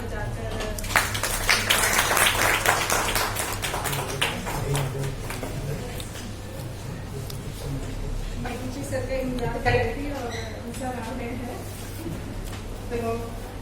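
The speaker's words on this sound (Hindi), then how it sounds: "मैं चाहती हूँ पहले आप उन सभी 10 लेखकों के एक बार तालियां" An audience at a book launch claps for the ten authors in a brisk burst of applause that fades after a few seconds, then someone speaks over the quiet room.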